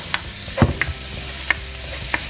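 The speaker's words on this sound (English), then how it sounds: "First we add the ginger garlic. And basically for stir fry and saute, this is how we do it." Ginger and garlic stir-frying in a hot pan for a teriyaki mushroom vegetable sauté: a continuous close sizzle broken by a few sharp spatula scrapes and knocks, with no voices.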